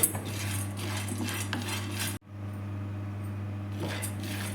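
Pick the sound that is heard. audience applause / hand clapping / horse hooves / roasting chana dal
roasting chana dal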